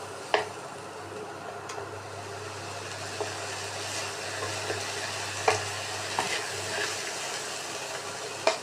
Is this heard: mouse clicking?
no